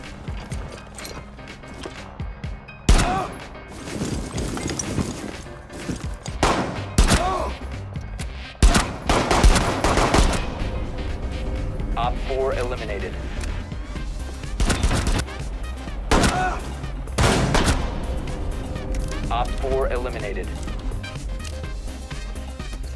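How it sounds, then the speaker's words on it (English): Pistol rapid fire in Rainbow Six Siege, sharp shots in quick clusters amid game noise and shuffling, with loud bursts spread across the stretch and a voice speaking at times. "you just go as close to an operator as you can and just spaz on the pistol because it's got heaps of bullets"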